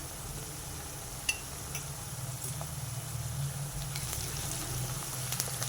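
Onions fry in a pan, a quiet, steady rain-like sizzle with occasional light clicks, heard alone without any voice.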